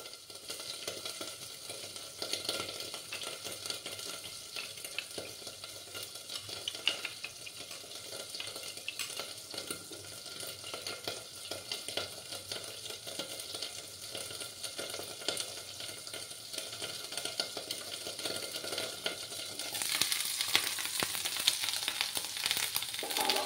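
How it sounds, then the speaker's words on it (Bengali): Oil spatters and sizzles steadily in a covered pan on the stove, a dense continuous crackle that stays close and even, then grows a little louder and brighter near the end; no voices. "তেলটা একটু ছিটছে তো, তার জন্য আমি একটু ঢেকে রাখলাম"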